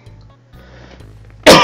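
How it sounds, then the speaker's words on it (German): A single loud, close cough bursts out suddenly after a quiet stretch of low hum. "Der Huster bleibt drin."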